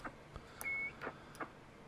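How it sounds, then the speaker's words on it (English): A radio set, a Superstar 2400, gives a short, faint electronic beep as it powers on, a single brief tone amid light clicks and handling noise, no talking. "So there's our beep"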